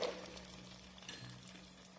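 Fried onions with curry leaves and added vegetables such as peas, beans and carrot, sizzling softly in a pan for a vegetable dum biryani, a faint, steady crackle over a low background hum.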